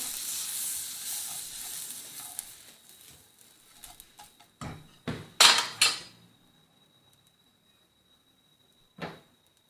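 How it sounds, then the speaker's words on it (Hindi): Butter sizzles softly in a pan on a low-flame stove, a faint hiss that fades away, interrupted by several sharp clinks of a utensil against the pan and one last clink after a pause. "पैन हमने चूल्हे पर रखा है, थोड़ा सा हमने इसमें ये बटर ऐड करना है"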